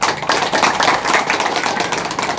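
An indoor audience claps warmly in applause for an honored guest, a loud, dense patter of many hands held steady across the moment.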